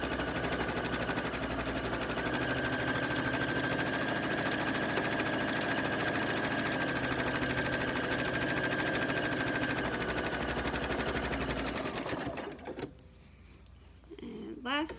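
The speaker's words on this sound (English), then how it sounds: "I'm just kind of keeping this straight as I sew" A sewing machine runs steadily while stitching a cloth napkin, its fast, even needle chatter holding close and loud for about twelve seconds before it abruptly stops.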